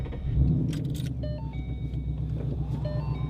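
A Ford Mustang Boss 302 with the 5-liter Coyote V8 cranks and catches, its engine settling into a deep, steady rumble up close, with a few clicks and chimes over it.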